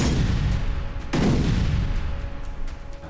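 Gunfire in Gaza between the Israeli army and Hamas fighters: one sharp, loud report stands out against a continuous low rumble of distant shooting, with fainter cracks following, and no voices.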